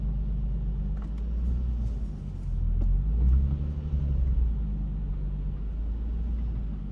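A Nissan 350Z pulls away in first gear, its engine a deep, close rumble that swells briefly as it accelerates and then eases back to a steady drone, with no talking.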